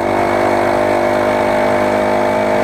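A motorized bicycle fitted with a four-stroke Honda GX35-type engine runs steadily and loudly up close, its buzzing drone continuous throughout, with no speech.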